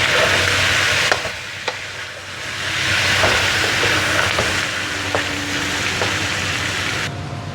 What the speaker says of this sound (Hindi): अब हम इसमें डालेंगे सारे मसाले, अच्छी तरह मिक्स करेंगे।